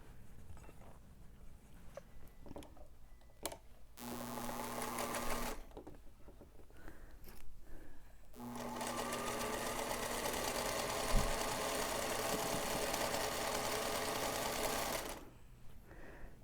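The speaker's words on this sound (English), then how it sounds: "we're ready to sew the final seam to assemble our little top here" Sewing machine stitching a quilt seam: two long, steady runs of rapid mechanical whirring, close and moderately loud, separated by short pauses with faint handling noise.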